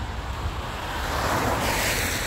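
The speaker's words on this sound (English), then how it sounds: "that river is flowing fast." A fast-flowing river in Yorkshire after heavy rain, heard as a loud, steady rush of water with a broadband roar that swells slightly toward the end, mixed with outdoor wind noise and no talk.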